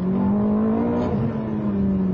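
A Ferrari F430 engine revs steadily toward 4,000 rpm, a loud, continuous, smooth tone that holds throughout without interruption or talk.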